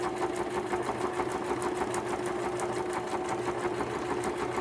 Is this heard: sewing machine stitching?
yes